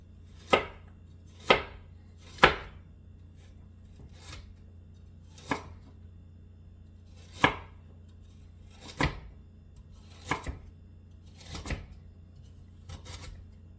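A knife slices carrots into thin rings on a cutting board: about a dozen sharp, separate chops spaced irregularly, close and clear against a quiet background with no talk.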